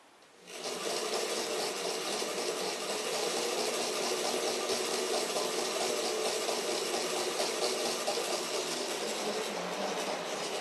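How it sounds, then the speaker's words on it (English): A model 14XX locomotive climbs an incline over magnetic strips laid in the track, giving a steady, continuous mechanical whir and rattle close by, running alone at an even level throughout. "14XX trying to get up the incline over the magnetic strips I put in the track."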